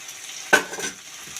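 Chopped tomatoes tipped into a pan of mutton frying in a little oil for a festive goat curry, one sudden close burst of sizzle that quickly settles to a softer crackle.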